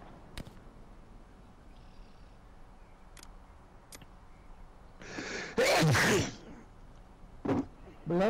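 A sneeze bursts out once near the middle, loud and close, followed by a couple of shorter sharp sounds, over a low background of distant game ambience with light talk around it.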